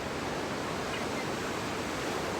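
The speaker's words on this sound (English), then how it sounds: "This is my favorite thing to do, is just be by the beach, listening to the waves" Ocean waves wash in at Ocean Beach, San Diego, near a pier, a steady, broad roar of surf that fills the scene without pause and with no talk over it.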